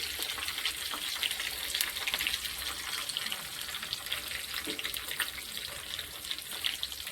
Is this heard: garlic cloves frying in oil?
yes